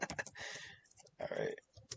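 Computer keyboard typing comes in quick bursts of close, faint key clicks, with short pauses between flurries.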